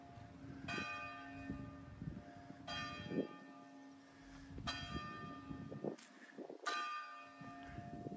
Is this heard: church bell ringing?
yes